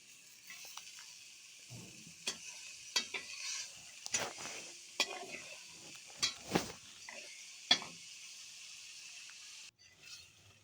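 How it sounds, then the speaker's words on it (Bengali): Spinach and prawns are stirred together in a pan with a little water, a quiet hiss under scattered scraping and tapping of the spatula against the pan. "এই তো নেড়ে চেড়ে মিশিয়ে নিলাম"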